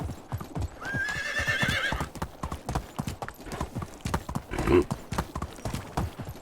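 In the video game Medieval Dynasty, rhythmic horse hooves clip-clop steadily at a trotting pace, close by, with a horse whinnying partway through.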